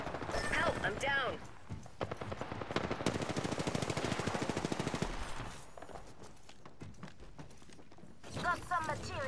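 Automatic weapon fire in Apex Legends rattles in a long rapid burst of evenly spaced shots, with shorter bursts around it and a voice speaking briefly at the start and end.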